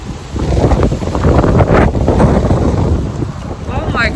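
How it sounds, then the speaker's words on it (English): Strong wind buffeting an outdoor microphone, a loud continuous low rumble and roar that swells and gusts throughout. "this wind is crazy"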